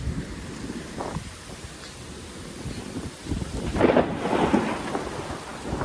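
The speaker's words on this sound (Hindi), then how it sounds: "ये देखते हैं बारिश आ रही है भाई।" Rain pours down on a field of eggplant crops laid with mulch paper while thunder rumbles, the downpour swelling louder and heavier partway through as a steady roar of drops.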